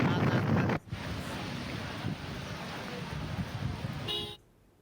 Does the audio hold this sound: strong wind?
yes